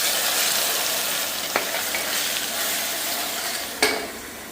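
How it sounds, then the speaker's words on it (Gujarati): Mustard seeds, cumin, asafoetida and a ginger-chili-garlic paste fry in hot oil. A steady, close sizzle runs throughout, with two brief clinks of a utensil against the pan. "રાઈ જીરું નાખી દીધી હિંગ અને આદુ મરચું ને લસણની પેસ્ટ."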